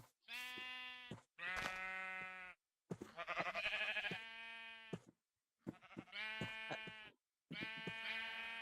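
Repeated bleats from a Minecraft sheep, including a pink one, in a video game: five or six long, nasal, quavering calls separated by short silences, close and clear with nothing else underneath.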